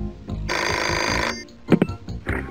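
A telephone rings in the Pajama Sam 2 video game, one sustained electronic ring burst that stops, followed by a few short knocks and a softer second ring starting.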